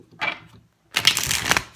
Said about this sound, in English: As you guys know that I shuffle on camera.